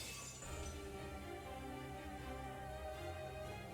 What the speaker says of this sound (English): The crystalline barrier shatters under the deadly rain of so many weapons.